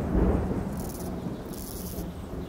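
Low thunder rolls in the distance as a storm approaches, a soft, sustained rumble with no voices over it.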